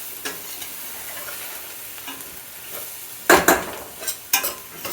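Vegetables and flour cooking in a pot for chicken and dumplings, a quiet steady sizzle broken by a few louder spoon scrapes and knocks near the end, with no talking.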